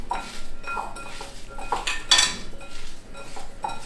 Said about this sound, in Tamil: அந்த உப்பு, பச்சை மிளகா, அந்த ஜீரகத்தூள் எல்லாம் மிக்ஸ் ஆகிற மாதிரி மிக்ஸ் பண்ணிக்கோங்க